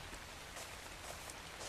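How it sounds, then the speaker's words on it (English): Steady rain falls in ARK: Survival Evolved, a soft, continuous hiss of raindrops with faint patter, heard alone without talking. "Oh, great, it's raining."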